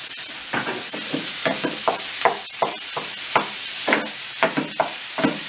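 Half a kilo of minced meat dropped into a pan of softened peppers and oil, frying with a steady loud sizzle while a utensil scrapes and stirs in repeated strokes, close up with no talking.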